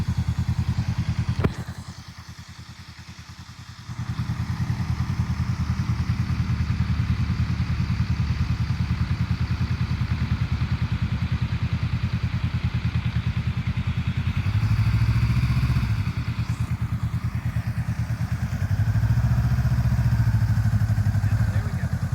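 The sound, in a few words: motorcycle engine running in friction zone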